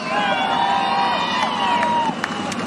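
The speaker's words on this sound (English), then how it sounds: "That always gets the big cheer" Crowd at a Southern Oregon Speedway sprint car night cheering loudly, a sustained roar of voices and shouts filling the clip, with a few sharp claps or whoops near the end.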